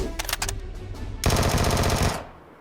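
A few quick shots, then a loud sustained burst of rapid automatic gunfire in PUBG that cuts off abruptly, game-like and close.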